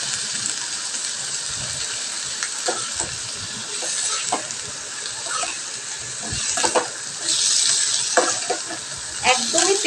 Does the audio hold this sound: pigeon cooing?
no